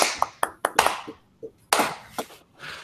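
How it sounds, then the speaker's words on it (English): A small audience breaks into quick clapping right after a software demo at a developer community standup. The claps come as several sharp bursts of hand slaps, close and fairly loud, with a brief pause mid-way before a second round. "That was a fast clap."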